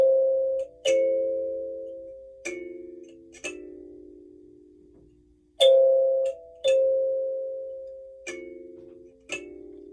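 A kalimba is played slowly, each plucked tine ringing out with a bright attack and a long sustained decay, several notes spaced apart alone with no talking.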